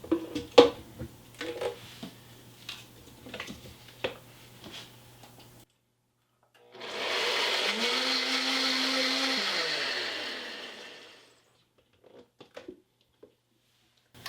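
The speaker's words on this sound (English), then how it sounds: "I'm going to give that a little bit of a blitz before we add our dry ingredients" A blender whirs loudly for about four seconds, blending wet pancake batter ingredients, its motor pitch shifting as it runs, between quieter kitchen clatter and taps.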